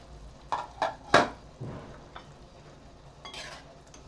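A metal lid goes onto a pot of matki usal, a sprouted moth bean curry, with three quick, close clanks in a row, a softer knock, and then quiet kitchen hush.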